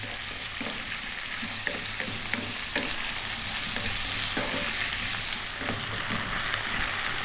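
Two cups of onion and three cups of peeled potatoes fry over above-medium heat for a vegetable curry, giving a steady close sizzle with intermittent scraping stirs and a low hum beneath.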